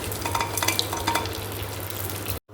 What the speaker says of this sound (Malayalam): ഇതിന് നല്ലതുപോലെ ഒന്ന് മിക്സ് ചെയ്ത് കൊടുക്കാം.